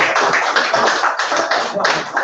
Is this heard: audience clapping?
yes